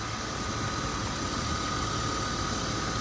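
A 1995 BMW 525i sedan's straight-six engine idles close by, a steady, even mechanical hum with a faint continuous whine, holding a constant level for the whole stretch with no voices over it.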